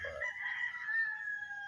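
A gamefowl rooster from Don Ramon bloodline stock crows once on a game farm, a long drawn-out call held steady through its tail, fairly close and clear with no talk over it.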